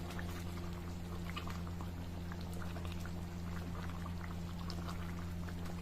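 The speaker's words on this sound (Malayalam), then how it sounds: "നമ്മുടെ കറി നല്ലോണം തിളച്ച് എണ്ണയൊക്കെ തെളിഞ്ഞ് വരാൻ തുടങ്ങി" Pepper chicken curry simmering in a pot, a steady close bubbling with small irregular pops over a constant low hum, quiet and continuous without talk.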